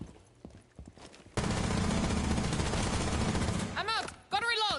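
Gunfire in the tactical shooter Rainbow Six Siege: a sudden sustained burst of dense automatic fire after a few scattered quieter sounds, then chirping whirring effects and another loud burst at the end.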